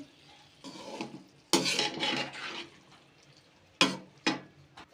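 A spoon stirs boiled mash daal in a pot with quiet scraping strokes, coming in a few bursts separated by short pauses.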